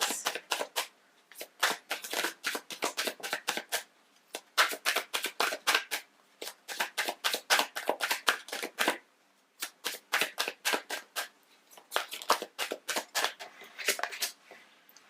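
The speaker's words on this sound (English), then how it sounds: "So I just looked until I shuffled the cards" Rapid crisp riffling of a deck of tarot cards, repeated in quick bursts with short pauses between, close and clear with no talking.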